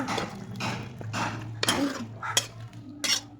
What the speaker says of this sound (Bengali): আমার তরকারিটা হয়ে গেছে, এবার আমি নামিয়ে দিচ্ছি